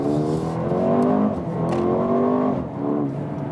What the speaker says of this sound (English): good performance, nice exhaust sound